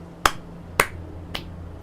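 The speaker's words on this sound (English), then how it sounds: "I really had to clap for myself" Three sharp, separate hand claps ring out indoors at an even pace, the last one softer, each a crisp isolated snap over quiet background hum with no talking.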